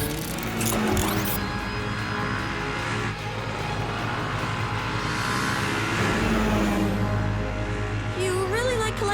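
Cartoon car driving, a continuous engine drone with shifting tones under music and effects, with dialogue spoken over part of it.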